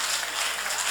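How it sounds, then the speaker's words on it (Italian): Audience applause welcomes the girls at the Gran Galà del Calcio Sardo 2026 football gala in Sardinia, a dense and steady wash of clapping that holds at an even level throughout. "Ecco le ragazze, le accogliamo con un grande applauso, ci facciamo sentire così"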